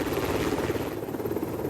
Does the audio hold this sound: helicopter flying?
yes